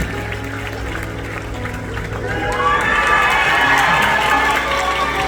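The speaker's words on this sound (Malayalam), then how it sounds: "നിറഞ്ഞൊരു കയ്യടിയോട് കൂടി നമുക്ക് ആ സുന്ദരിയെ സ്വാഗതം ചെയ്യാം" A crowd at a gathering claps and cheers to welcome a girl, a steady wash of applause and shouting that swells louder midway and continues to the end, with voices mixed into the noise.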